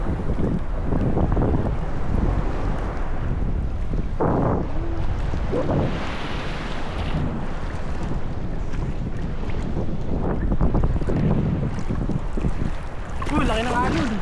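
A boat pounds through big ocean waves off Ilocos Norte, with heavy wind buffeting the microphone, splashing surges and excited voices calling out near the end.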